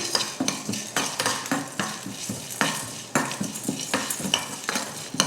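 Peppercorns, cumin, cloves, a piece of cinnamon and cardamom dry roast in a pan for a country chicken fry spice powder, with a spoon stirring and scraping in quick close clinks and rattles.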